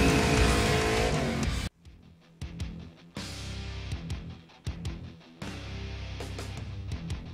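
Dirt track race cars roar around Nodak Speedway in North Dakota on the opening weekend of racing, with loud engine howls and quick pass-bys separated by abrupt cuts, close and powerful, with no voices.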